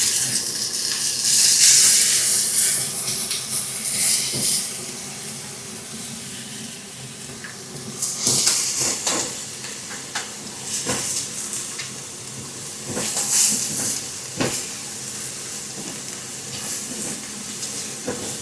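Onion, spring onion, celery and chili char in a pan over high heat for a village-style chicken liver dish, giving a steady, loud sizzle with occasional stirring scrapes and flare-ups.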